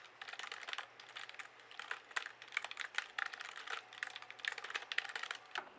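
Quiet, steady typing on a computer keyboard while HTML code is being written, with brisk irregular key clicks running throughout and no speech.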